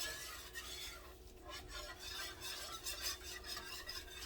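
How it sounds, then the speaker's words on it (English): A spoon stirs a browning mixture in a pot while a smothered beef chuck roast cooks, giving soft repeated scraping strokes over a faint low sizzle, quiet and close with no talking. "Just keep stirring it."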